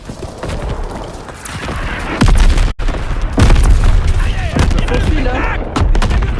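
Heavy artillery explosions in Call of Duty WWII, deep booms landing through a loud, busy battle soundscape, with one sharp blast near the middle and steady rumbling around it.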